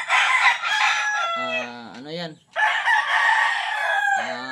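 Gamecocks raised for cockfighting crow loudly and close, with several overlapping cock-a-doodle-doo calls following one another.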